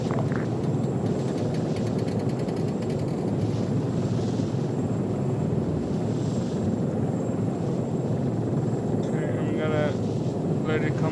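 In the ArmA 3 video game, a damaged Apache helicopter that has lost its tail rotor drones with a constant, loud rotor and engine roar, with voices speaking over it.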